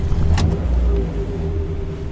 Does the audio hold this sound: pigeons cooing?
no